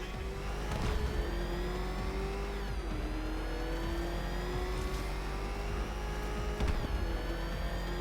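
The Batmobile engine in Batman: Arkham Knight roars loud and close, revving with rising and falling pitch through a few gear shifts, with no talk over it.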